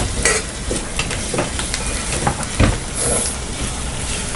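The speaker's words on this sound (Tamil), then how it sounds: "இப்போ நம்ம தக்காளி ஆட் பண்ணிக்கலாம்." Tomatoes tossed into onions frying in a pan, a continuous close sizzle with stirring scrapes and a brief thump partway through.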